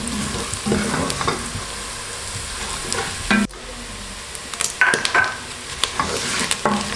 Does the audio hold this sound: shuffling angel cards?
no